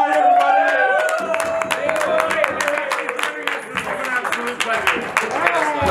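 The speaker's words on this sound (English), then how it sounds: "Please clap." A convention audience at a late-night fan fiction reading claps and whoops, dense applause with sharp individual claps and scattered cheers, while voices talk over it.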